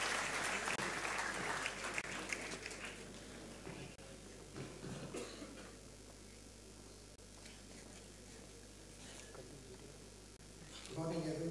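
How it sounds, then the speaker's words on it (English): Audience applause at a conference session, a fairly faint, sustained patter of many hands clapping in a hall that tapers off, with some voices and a cough. "let us have this opportunity to listen to Brigadier Chakrabarti with a big round of applause, please."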